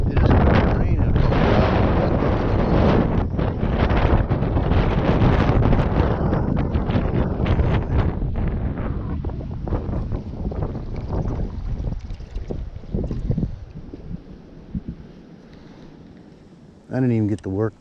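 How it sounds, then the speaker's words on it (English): Strong wind gusts blasting across a creek during a rainy December fishing trip, a loud, roaring rush buffeting the microphone for most of the stretch before easing, with a voice talking over it. "Man, it is getting windy through it."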